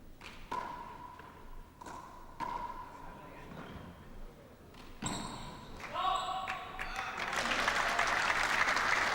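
Applause at a snooker match, an opponent clapping a good shot in a 1980s–90s Irish tournament; clapping builds toward the end, with a few sharp ball knocks and clicks earlier and a commentator talking throughout.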